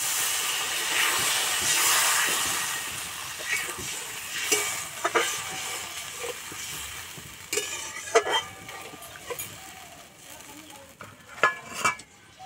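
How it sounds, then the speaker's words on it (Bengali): Water poured into a pan of fried spice paste for a pabda fish curry bursts into a loud hissing sizzle that gradually fades into intermittent crackles and pops, close up with no talk. "এবার আমি জল দিয়ে দেবো।"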